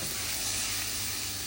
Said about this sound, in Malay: Lepas tu tumis dia sampai keluar minyak.